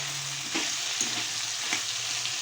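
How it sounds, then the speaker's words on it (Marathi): Okra (bhindi) is stirred into frying thecha, a chili garlic mix, in a pan, giving a brief, moderate sizzle with a few scraping stirs and no talk. "त्याच्यामध्ये आपण ही भेंडी टाकू आणि हे पूर्ण मिश्रण एकजीव करून घेऊ"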